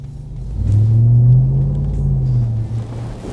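A 2021 RAM TRX Launch Edition pickup pulls away, its engine building into a deep, smooth low rumble heard from inside the well-insulated cabin, swelling then easing slightly.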